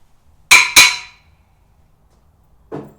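Socket wrench work on the rear seat bolts of a Jeep Wrangler TJ: two sharp metallic clanks in quick succession, then a single softer clink a couple of seconds later, close and loud with no talking.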